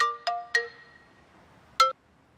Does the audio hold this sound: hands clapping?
no